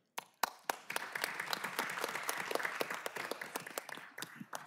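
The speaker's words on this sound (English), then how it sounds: "And we want to applaud you again for being here." Applause at a city council meeting for visiting young women guests, a roomful of hands clapping steadily for several seconds before tapering off, with a little background murmur.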